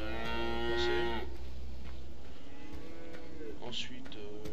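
Cows moo in the Farming Simulator 13 video game inside a livestock barn, with a long drawn-out low moo at the start and a shorter call near the end, loud and close, with no talking.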